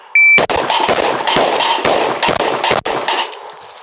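Rapid pistol shots from a Sig P365 X Macro with an aluminum lower ring off a steel target, about nine sharp close cracks, each followed by a metallic clang and a ringing tone.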